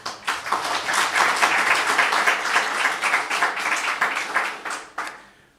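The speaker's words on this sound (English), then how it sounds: "a round of applause for all of these, please" Rally crowd at a public services union event applauding steadily for about five seconds, a dense wash of many hands clapping at close range that fades out at the end.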